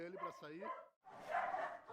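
Several dogs, around twenty stranded on the top floor of a flooded building during Brazilian floods, bark and yip in bursts across the clip, fairly close, with a brief gap of silence midway.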